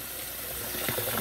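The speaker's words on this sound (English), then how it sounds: "I just fill it up with a little bit of cold water and let it spill off the side" Cold tap water running and splashing into a container of foamy carrot wash water in a kitchen sink, a steady close hiss with brief gurgles toward the end.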